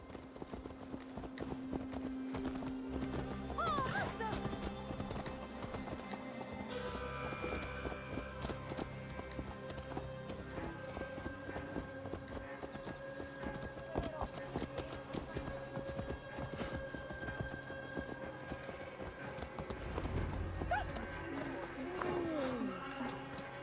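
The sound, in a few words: horse hooves clip-clopping while riding, from video game Assassin's Creed Valhalla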